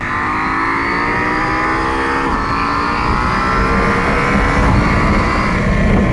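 A KTM 790 Adventure motorcycle engine revs loudly and close, a steady strong drone with rising pitch sweeps as it pulls through the gears, with wind noise underneath.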